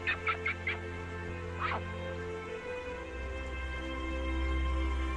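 Ducks along a river in the wetlands of southwestern Guangxi, China, give a few short quacking calls, one burst early and another a moment later, over a steady low hum of background water and insects.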